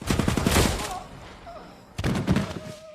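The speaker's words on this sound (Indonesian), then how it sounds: "Anna muncul tepat waktu dan menembak mati Eddie" Gunfire in a film scene: bursts of rapid, loud shots crack in two clusters separated by a brief lull, with mixed action sound and ringing tones between them.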